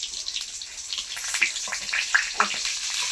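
Fish roe omelette sizzling in hot oil in a wok, a steady close crackle and hiss broken by a few brighter spits and pops, with no one speaking.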